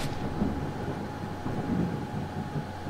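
Thunder rumbling in the shooter S.T.A.L.K.E.R. Shadow of Chernobyl (2007), a steady low roar with rolling swells and faint rain-like hiss, no voices over it.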